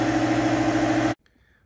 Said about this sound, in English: the air compressor decided to kick on